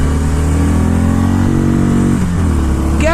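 A Harley motorcycle accelerates hard, its engine rumbling loud and close as the revs climb steadily, then dip briefly at a gear change before rising again.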